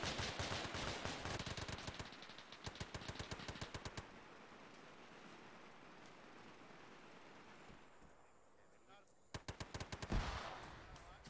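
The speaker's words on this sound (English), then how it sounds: "We're taking shots again from the northwest" Automatic gunfire in the video game Arma 3 in several loud bursts, a quieter stretch of rushing background ambience between them, then another close burst near the end.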